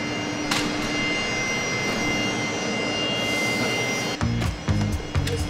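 A steady jet airliner roar holds at moderate distance, mostly constant, before a few sharp thumps and low rumbles break in near the end; no talk is heard.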